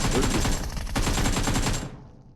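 Rapid automatic gunfire from the mobile battle royale game PUBG Mobile rattles in dense, loud bursts with a short pause, then cuts off into a quick fade.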